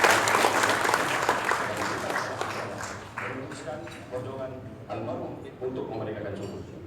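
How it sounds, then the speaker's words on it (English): A hall of guests at a gala dinner at the Shangri-La in Makati applauds His Majesty the Sultan, with dense clapping that gradually thins out as speech begins over it. "please extend a big round of applause to His Majesty Sultan Mudarasulail"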